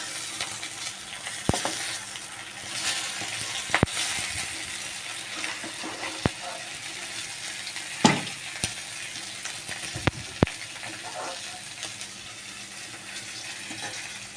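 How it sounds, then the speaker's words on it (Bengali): Fish frying in hot oil in a home kitchen, a steady close sizzle and crackle with a few sharp utensil clinks scattered throughout and no voices. "দেখো মাছ ভাজা হয়ে গেছে, মাছগুলো এবার আমি তুলবো।"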